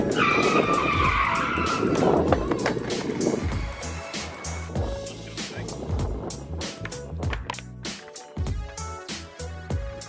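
A skateboard rolls and scrapes as a rider attempts a dolphin flip the wrong way, with a long grinding roll followed by a series of sharp clacks and board impacts.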